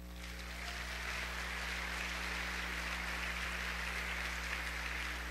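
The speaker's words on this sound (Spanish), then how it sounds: "Dale un aplauso a Dios." A church congregation claps together in a steady, fairly distant patter over a low electrical hum, continuing evenly for several seconds without speech.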